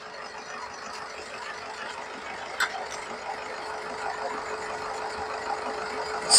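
A Mahindra Xylo engine idles steadily at a low, even rumble, close by, with a few faint clicks and no voices.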